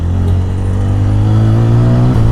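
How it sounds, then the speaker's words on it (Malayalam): A TVS Apache RTR 160 4V motorcycle pulls hard in fourth gear, its loud single-cylinder engine droning close and steady with a slowly rising pitch as it accelerates. "ഫോർത്ത് ഗിയറിൽ കണ്ട നല്ല ആക്സലേഷൻ ഉണ്ടല്ലോ വണ്ടിക്ക്"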